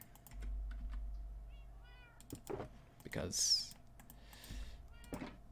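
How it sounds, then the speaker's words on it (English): A cat meows in a Minecraft survival world, a short high cry standing out among keyboard typing and a voice. "There's a cat in the center."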